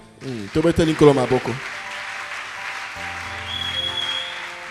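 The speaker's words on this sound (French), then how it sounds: "Est-ce qu'on peut acclamer le Seigneur?" A church congregation at a Pentecost service applauds and cheers for the Lord. Someone speaks briefly, then steady applause swells and rolls on with scattered voices.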